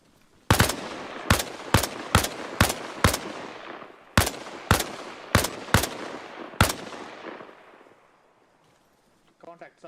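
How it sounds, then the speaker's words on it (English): Gunfire in the military game Arma Reforger: about a dozen sharp, loud single shots in irregular succession, each with a ringing tail, fading into a long echoing decay and near silence. "gonna open fire on this guy"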